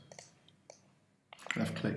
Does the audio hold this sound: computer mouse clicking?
yes